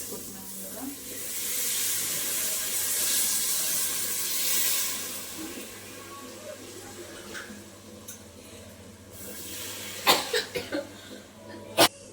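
Water poured into a hot pan while cooking egg rice, giving a broad steamy hiss that swells and fades, followed by a few sharp clanks of utensils.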